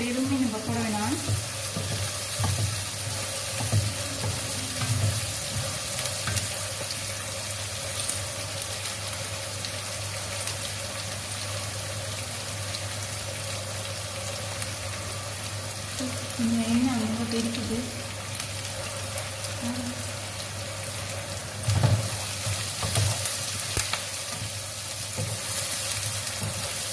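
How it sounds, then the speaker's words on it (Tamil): Onions softening in a pan for fish curry with pak choy give a steady, moderate sizzle throughout, with a constant low hum beneath and a few brief clinks and voice murmurs along the way. "வெங்காயம் நல்லா வதங்கிக்கிட்டு இருக்கு."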